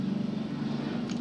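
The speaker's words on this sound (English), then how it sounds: "That's a helicopter." A low, droning engine hum with a pulsing, chopping rhythm, steady and moderately loud, like a helicopter passing overhead.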